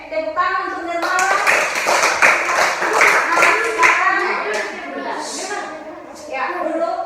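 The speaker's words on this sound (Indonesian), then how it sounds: "Tepuk tangan untuk Nirmala" Classroom children clap together for a classmate, a steady burst of hand claps running under a child's and a teacher's voices, with talk continuing over the clapping throughout.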